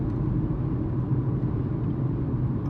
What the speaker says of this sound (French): N'importe quelle voiture ferait du bruit sur cet enrobage routier qui est antidérapant, mais du coup un peu bruyant.